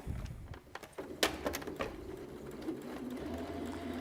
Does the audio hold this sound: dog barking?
no